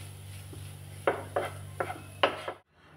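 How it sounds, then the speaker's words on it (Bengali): Grated boiled potato is folded into cooked vegetables for a Bengali vegetable sandwich filling, giving four or five close, distinct scraping clatters of a utensil against the bowl over a steady low hum, with no one talking. "আলুটা সবজির সঙ্গে ভালোভাবে মিশিয়ে নেব।"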